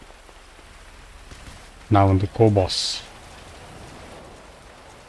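Rain falling in a steady, soft hiss that continues throughout, with someone speaking briefly over it in the middle.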